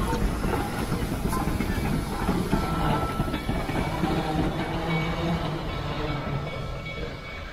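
Steam locomotive 2102 rolling along the track, a steady broad rumble with faint rail clatter and hiss holding at an even, fairly loud level throughout, with no talking.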